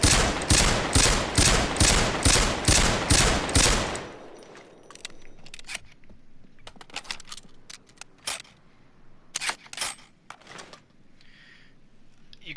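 About eight sharp, evenly spaced shots from a WA2000 Lebensauger .308 sniper rifle in Payday 2 ring out loudly in quick succession, followed by scattered mechanical clicks and clacks of reloading and handling.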